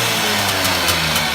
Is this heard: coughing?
no